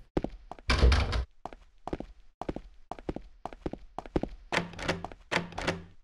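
A locked door in the video game Silent Hill 2 rattling against its frame as a long series of hollow wooden thunks and clunks, irregular and close, with one heavy louder burst near the start.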